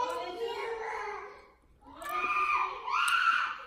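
A child screams and wails indoors in loud, drawn-out bursts with a short pause between them, close by and strained, with no other sounds around it.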